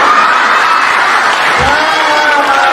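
Audience at a Hindi comedy poetry gathering (hasya kavi sammelan) claps in a loud, dense, continuous wash, filling the hall with sustained applause and crowd noise.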